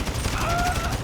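Sniper rifle fire in the video game GTA V, a loud, dense crackle of shots with a faint mechanical tone running through this brief moment.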